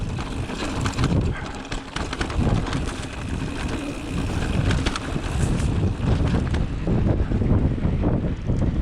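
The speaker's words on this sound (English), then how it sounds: "it's really windy out here today" Strong gusts of wind roar across the microphone on an outdoor two-way trail, a loud, continuous buffeting rush that swells and dips without a break.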